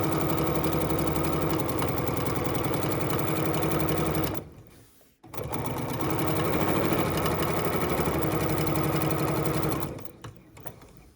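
A sewing machine stitches a folded hem in two fast, steady runs of rapid mechanical whirring, separated by a short pause, with the motor winding down at the end.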